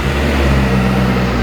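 Benda LFC 700 Pro cruiser motorcycle engine running close by, a loud, steady low rumble with a deep throbbing undertone, heard alone.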